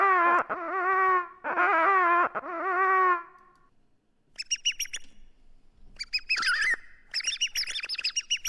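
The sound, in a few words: bird sound from an animal box in a video game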